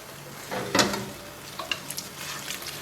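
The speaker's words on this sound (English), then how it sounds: "So I'm going to keep stirring this up a little more" Spaghetti aglio olio sauce stirred in a pan, a soft faint sizzle and scraping with a few brief clinks, no voices.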